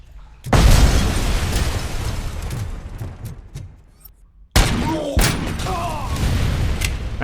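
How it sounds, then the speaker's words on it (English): Grenade explosions in RoboCop: Rogue City, a loud blast erupting and rumbling for several seconds, then a second sharp detonation with scattered pops and crackling debris following closely. "Kept blowing each other up with grenades."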